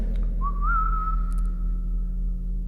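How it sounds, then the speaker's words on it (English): One sustained whistle with a slight upward bend at the start, holding a steady tone for about two seconds in a lunatic asylum, over a constant low rumble. "There was a whistle from down there"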